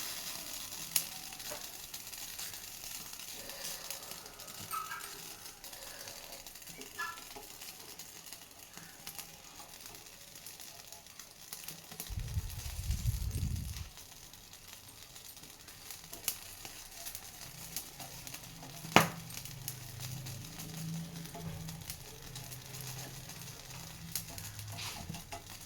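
Three dried red chilies roast in a pan as part of a brinjal tamarind curry, a soft, steady sizzle and crackle throughout, with a louder low burst near the middle and occasional small pops.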